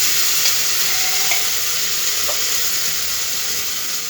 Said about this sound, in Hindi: अब इसको फिर हम भून लेंगे।